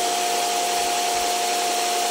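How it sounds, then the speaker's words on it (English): A hot air gun set to 200 °C blows steadily at an iPad 10th gen screen to soften its adhesive, giving a loud, constant fan-driven whoosh with a fixed whine running throughout. "I'll use my hot air gun set to 200 degrees C"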